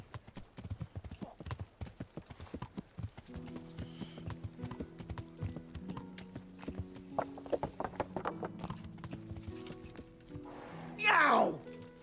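Horse hooves clip-clop at a steady, close pace in the medieval video game Kingdom Come: Deliverance, with a short whinny near the end. Speech-like voices sound faintly along with the hoofbeats.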